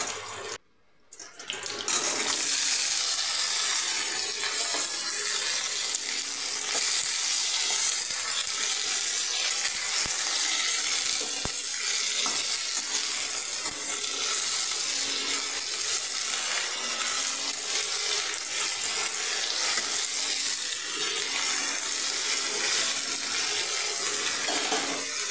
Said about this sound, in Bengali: এটা আমি ফোড়ন দিয়ে সরু সরু করে কাটা সবজিগুলো দিয়ে দিলাম